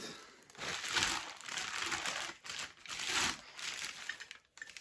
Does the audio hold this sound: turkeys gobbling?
no